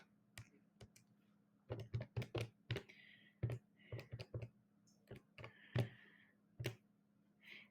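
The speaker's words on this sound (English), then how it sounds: "And if I type that in a calculator" Numbers tapped into a calculator, a series of sharp, separate button clicks in uneven bursts against a quiet room hum.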